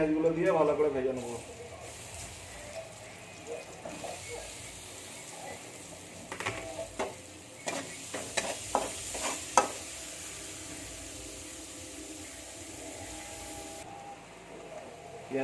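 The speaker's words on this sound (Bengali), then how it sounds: "তেল গরম হয়ে গেলে পেঁয়াজ গুলো দিয়ে ভালো করে ভেজে নেবো" Onions frying in hot oil in a wok, a low continuous sizzle with a burst of stirring scrapes and clatter in the middle, and a voice briefly at the start.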